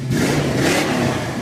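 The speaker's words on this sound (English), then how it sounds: "Put her in neutral and give us a little rev" Ford Mustang engine revved in neutral with a noticeable cam: a short, loud, close rev that swells and holds, with a throaty low rumble and mechanical clatter.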